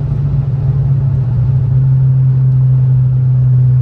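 Volkswagen Up TSI with a stage 3 tune and fresh timing belt, engine droning at a steady held pitch, loud and close inside the car, a deep constant hum with no talking.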